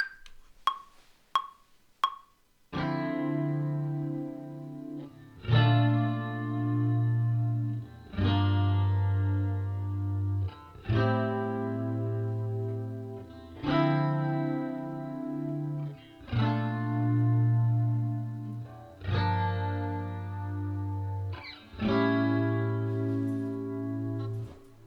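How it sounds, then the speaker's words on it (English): Sustained electric guitar chords reamped through a Tone Master Pro with heavy effects, chorus and reverb, each strummed chord ringing out for a few seconds, after a few short picked notes. "now we're ready to actually record our guitar track"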